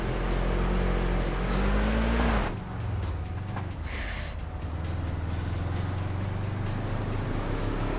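A car drifting in the racing game Overpass 2, a loud, droning engine roar that drops sharply in pitch midway, with tire-scrub noise and rattling over a continuous rumble.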